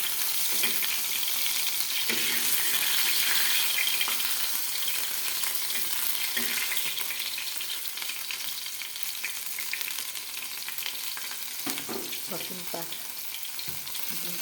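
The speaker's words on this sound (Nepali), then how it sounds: "सुरुमा चाहिँ लसुन मजाले फुलाउनु" Garlic frying in a pan for pasta, a steady loud sizzle throughout with occasional scraping stirs and clinks, no voices.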